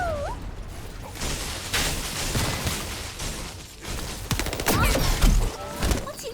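Gunfire in the video game The First Descendant, rapid bursts of shots and impact thuds with bright electronic effects, loud and dense, over light game mechanics with a voice talking briefly.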